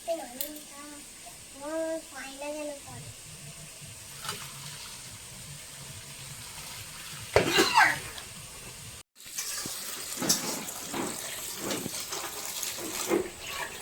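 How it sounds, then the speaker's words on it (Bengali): Boiled chow mein noodles rinsed under cold running tap water, a broad, steady rush of water that swells in the second half, with people, including a child, talking over the start. "এটা ঠান্ডা জলে ধুয়ে নিলে ভালো ছেড়ে যাবে"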